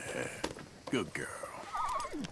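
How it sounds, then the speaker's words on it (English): Horse in Red Dead Redemption 2 neighing and whinnying, with a few clip-clopping hoofbeats, heard close and clear over a short stretch. "Horse needs a bit of food here."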